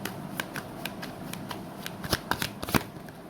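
Tarot cards are shuffled close by in a quick run of soft riffling slaps and flicks, which grow louder near the end.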